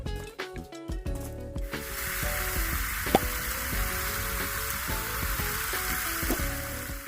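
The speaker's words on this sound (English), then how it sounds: "put your processed pine cones in the bowl and fill it up with enough water to allow the pine cones to be submerged" Water pours from a tap into a bowl of processed pine cones, a continuous hissing splash that starts after a couple of seconds of clattering and stays steady and close to the end, with faint tonal background underneath.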